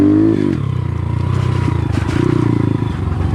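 A motorcycle with a new battery idles steadily in a rural Hmong village in French Guiana, its loud, even engine chug continuing without a break and rising slightly partway through, with no voices.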